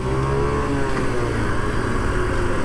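A small Honda Monkey 60 cc motorcycle engine revs up under acceleration, a close, steady buzzing drone that holds strong throughout with no speech.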